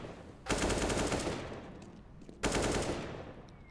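Two loud bursts of automatic rifle fire from AK rifles in a Counter-Strike match on the Cobblestone map, each burst rattling for about a second and tailing off, with no voices over them.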